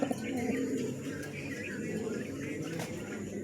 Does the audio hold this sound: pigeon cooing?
yes